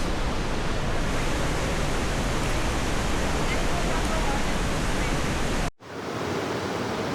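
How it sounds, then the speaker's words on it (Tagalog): Steady, dense roar of Pagsanjan (Cavinti) Falls in Cavinti, Laguna, loud and continuous, with a brief cut near the end before the rushing water resumes. "Ang ganda ng Pagsanan Falls."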